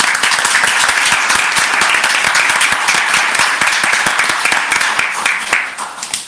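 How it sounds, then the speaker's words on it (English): Attendees at a city commission meeting applaud, a loud, sustained burst of many hands clapping close by that fades near the end. "if we could give a round of applause to"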